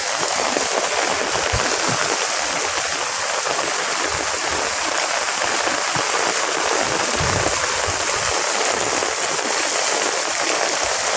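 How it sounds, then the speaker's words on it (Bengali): Heavy rain pours down steadily while water rushes along overflowing drains, making a loud, continuous broadband roar that holds constant throughout with no voices. "এত পরিমাণ বৃষ্টি হয়েছে"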